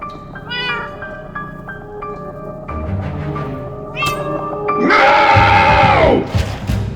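A cat meows repeatedly in long, wavering tones that end in one loud, rising yowl, heard over a busy background murmur and crowd-like noise.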